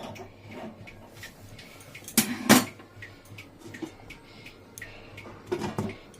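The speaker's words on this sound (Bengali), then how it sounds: "এই চাপা দিয়ে দিলাম।" A lid set onto a cooking pot of coriander chicken, a sharp metallic clatter in the middle amid scattered light kitchen clinks and taps, fairly close with no voices.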